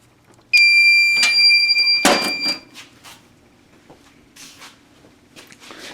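Fire alarm sounding during a system test on a hobbyist alarm panel setup, a loud tonal alarm blaring for about two seconds, followed by a sharp clunk and a few fainter knocks and rustles in a quiet room.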